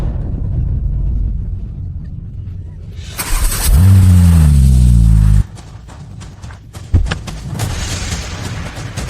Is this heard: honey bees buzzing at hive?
no